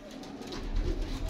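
Soft, low cooing of pigeons, close by, in a brief murmuring stretch.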